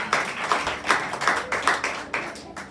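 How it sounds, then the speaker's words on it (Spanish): A church congregation claps in unison, close and steady, about seven sharp rhythmic beats spaced roughly every third of a second apart, with no talk over it. "Denle un aplauso a nuestro Señor Jesucristo"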